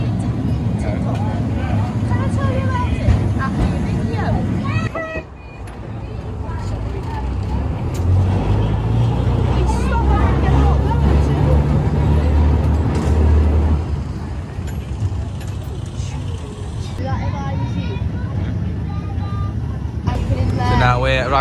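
A heritage tram on the Birkenhead Heritage Tramway rumbles steadily through a ride of about twenty seconds, its low mechanical drone and rattle continuous and fairly loud, with people talking over it.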